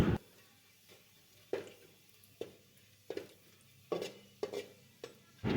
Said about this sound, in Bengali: এবার ওই পাত্রে দিয়ে দিচ্ছি সর্ষের তেল আর দিয়ে দিচ্ছি শুকনো লঙ্কা রসুন কুচি এবার সমস্তটা ভালো করে একটু ভেজে নিব